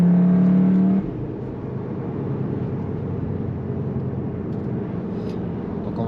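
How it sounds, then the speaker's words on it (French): Synthetic engine sound from a 310 hp Cupra Formentor VZ piped through the cabin speakers, a steady droning hum heard from inside the car while driving, with a brief higher tone at the start before settling into a constant rumble. "la sonorité qu'on entend là ne provient pas de l'échappement ou de la motorisation, ce sont les haut-parleurs qui réalisent donc cette sonorité"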